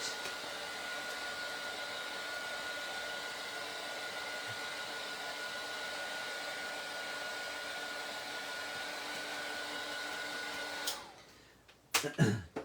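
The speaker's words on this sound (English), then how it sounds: "So I'm just going to give it a very quick blast with my heat tool" A heat tool blows hot air over a handmade card in a steady, close whooshing drone that runs unbroken for about eleven seconds, then cuts off abruptly, followed by a few brief clatters.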